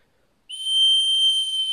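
A mouth whistle imitates air leaking from a multilayer pipe fitting, the Wavin Tigris M5; one steady, high, continuous tone starts abruptly and holds alone.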